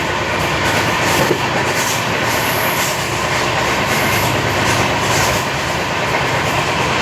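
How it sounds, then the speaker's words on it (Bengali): A Howrah–Mathura express train racing at about 128 km/h through the Chambal valley ravines: a loud, continuous rushing roar with rumbling wheels and a faint clickety-clack, heard close from on board. "128 কিলোমিটার বেগে ট্রেন দুর্বার গতিতে এই প্রকৃতি চম্বলের ঘাটির বুক চিরে ছুটে চলেছে"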